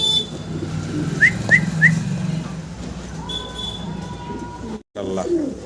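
A pair of large jet-black Mundian fancy pigeons, with three quick, bright whistle-like calls close by, then softer cooing tones over a steady background hum.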